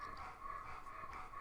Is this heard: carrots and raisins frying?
no